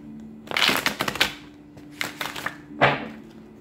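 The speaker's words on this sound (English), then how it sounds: "One last shuffle for Capricorn" Tarot cards are shuffled by hand in quick bursts of riffling and crisp flutter: two clusters of papery riffles, a pause, then one more short burst, close and clear.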